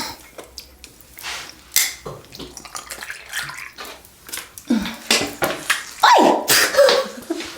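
An enema bag is filled with distilled water: irregular splashing and gurgling bursts with plastic handling noises, close and fairly loud, in uneven spurts over several seconds.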